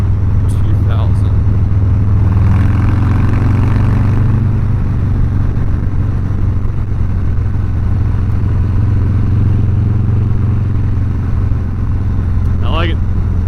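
A 2022 Harley-Davidson Low Rider S cruises in fourth gear at about 2000 rpm, its engine a steady, deep, close rumble throughout. A few brief vocal sounds rise above the drone.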